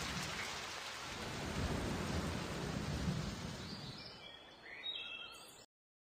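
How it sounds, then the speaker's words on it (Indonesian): A thunderstorm with steady heavy rain and deep rumbling thunder swelling in the middle, then easing off into a few faint bird chirps before cutting out. "Badai sudah turun."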